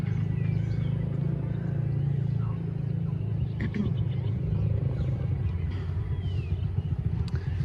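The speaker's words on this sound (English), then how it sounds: "the car park and the streets around here are absolutely chock-a-block full of cars" Busy streets and a crowded car park at the foot of Penang Hill in the morning, with a steady rumble of passing cars and engines, continuous and moderately loud, and a few faint clicks over it.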